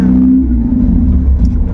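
Engine of a moving Toyota Corolla K20 with a 1200 cc engine, a loud, close, steady low rumble with a brief higher tone at the start and no talk.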